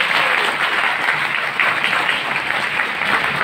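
An audience applauds at a motivational business talk in Hindi, with dense, sustained clapping from a large crowd that stays loud and even throughout.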